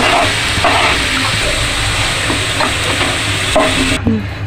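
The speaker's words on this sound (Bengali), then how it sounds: "অল্প নুন দিয়ে আর নাড়াচাড়া দিয়ে আলুটা কিছুক্ষণ ভেজে নেব" Potatoes frying in hot oil with a loud, dense sizzle and occasional scraping stirs, heard close, ending with a clatter near the finish.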